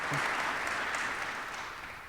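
Audience applause at a press conference on success planning, a dense wash of clapping that holds steady for about two seconds before easing off slightly at the end, with no talk over it.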